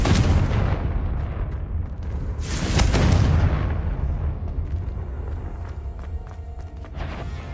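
A Confringo spell in Hogwarts Legacy detonates in loud, rumbling booms with bursts of crackling debris, overlapping blasts dominating a dense battle din before it settles into lower roaring noise.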